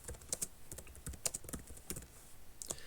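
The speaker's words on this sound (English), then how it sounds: "if I press enter now and start typing my first question" Fingers tap out a short question on a computer keyboard, giving quiet, irregular clicks and key strikes in quick bursts with no talking.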